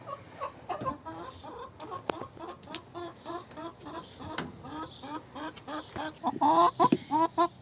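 An agitated farm rooster clucks repeatedly in short, choppy bursts, close and fairly loud, building to louder aggressive calls near the end.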